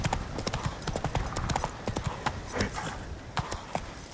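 Roach the horse galloping in The Witcher 3, rapid rhythmic hoofbeats clattering close and loud throughout, with no voices.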